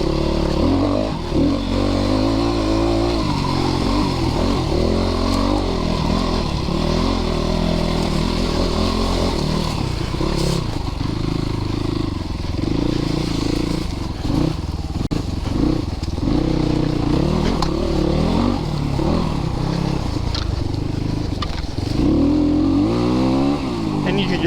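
A Christini AWD 250DS all-wheel-drive dirt bike with a Honda-clone engine revs continuously, loud and close, its pitch rising and falling with the throttle while a voice is faintly heard underneath.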